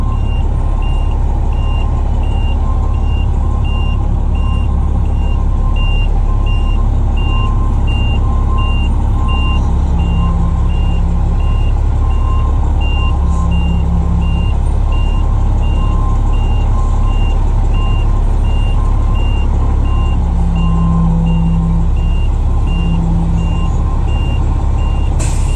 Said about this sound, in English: Big truck coming out.